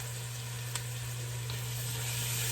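Garlic sizzles in a pan, a soft, steady hiss of frying throughout with a faint hum underneath.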